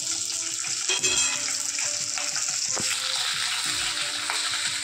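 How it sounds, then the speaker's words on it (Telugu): Small onion pieces frying in a spoonful of hot oil for a crispy baby corn recipe, a steady close sizzle with a few clinks of a utensil against the pan throughout, no voices. "ఇప్పుడు 1 చిన్న స్పూన్ ఆయిల్ తీసుకొని వేడెక్కాక చిన్నులపాయల్ని చిన్న ముక్కలు కట్ చేసుకొని వేసుకోవాలి"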